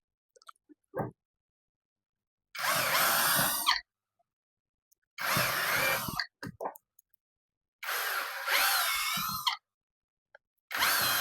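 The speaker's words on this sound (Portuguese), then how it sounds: "Vamos furar." A power drill boring holes in a Kydex holster, three loud, close bursts of a few seconds each with silent pauses between, plus small clicks and taps of handling.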